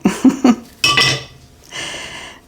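A metal kitchen strainer is tapped to sift cocoa powder, giving a few sharp close metallic clinks in quick succession followed by softer rattling taps and a brief rustle.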